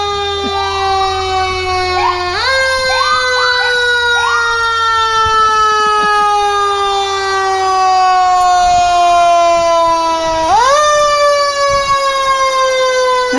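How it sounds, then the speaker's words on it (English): Fire and police vehicle sirens wail together at a street parade, long rising and falling tones overlapping with sharp whoops and yelps, loud and close throughout. "You asked for sirens, you got sirens."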